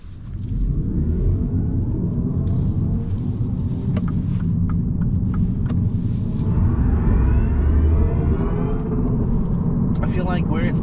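Electric MINI Cooper SE (J01) pulling away under acceleration, a low steady road rumble and motor whine rising gradually, with a person talking over it and brief higher chirps near the end.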